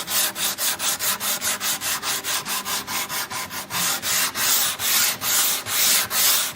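Rhythmic back-and-forth sanding strips old varnish from a wooden furniture hutch, each stroke a loud, close rasp repeating about three times a second without pause.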